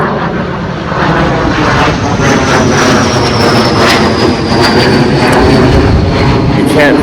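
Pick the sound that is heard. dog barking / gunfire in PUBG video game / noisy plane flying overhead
noisy plane flying overhead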